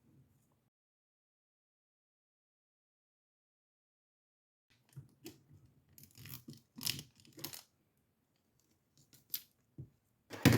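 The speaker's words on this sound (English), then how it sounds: "I'm gonna cut a piece of the same transfer tape and add it up in here" Scissors snip through a piece of transfer tape in a short burst of cuts and crinkles after a long silent stretch, close and fairly quiet, ending with a couple of sharper clicks.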